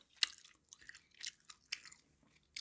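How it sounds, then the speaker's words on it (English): Someone chews NeuroGum caffeine gum close to the microphone, with soft wet smacks and occasional sharper crunchy bites in an uneven rhythm, no talking. "I hope you can hear me all chewing as I'm chewing away in the gum."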